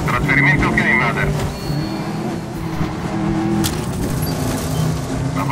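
A damaged car speeding through Dubai in the video game Medal of Honor Warfighter: a loud, close engine roar runs throughout with revving surges and scattered bumps and clatter.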